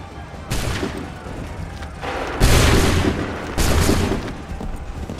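Volleys of musket fire in Assassin's Creed III roll out as several loud, booming bursts of crackling gunfire, each lasting about a second, over rumbling battle ambience.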